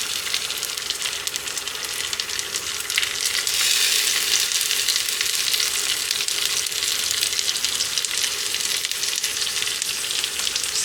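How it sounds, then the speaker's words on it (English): Loud, continuous sizzling of liquid hitting a hot pan while making pineapple upside-down cake, a dense crackling hiss that holds steady throughout. "Sizzling from the liquid."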